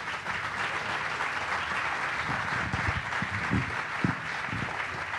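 Audience applause at a political event in Italy, a steady wash of many hands clapping at moderate level, continuing evenly throughout with no voices above it.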